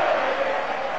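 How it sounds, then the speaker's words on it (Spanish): A stadium crowd roars in ovation for Pocho Insúa after an Independiente goal against Newell's: a loud, dense, sustained wash of cheering throughout the brief moment. "la ovación es para el Pocho Insúa"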